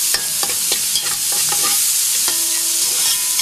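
Onions sizzle and fry in a pan for a Réunion-style rougail morue, with a steady loud crackle and occasional clinks of a utensil stirring through them.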